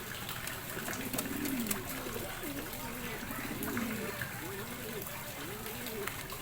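Racing pigeon returning home after a toss, soft repeated cooing close by under steady background noise and light trickling sounds.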